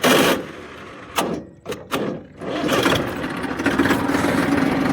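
Massey Ferguson 1035 tractor engine with an 11-tine cultivator in a field, a steady running rumble with a couple of sharp knocks early on, close and loud throughout.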